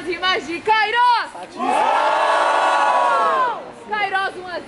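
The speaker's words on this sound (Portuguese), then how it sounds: "Barulho pra quem gostou das rimas de Kairos!" Fans at a rap battle grand final in Brazil shout and whoop together in a loud, sustained roar that lasts a couple of seconds. An MC's voice can be heard calling out before and after the cheer.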